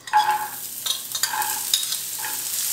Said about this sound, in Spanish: en un sartén vamos a agregar aceite aquí agregamos las calabazas que tenemos ya partidas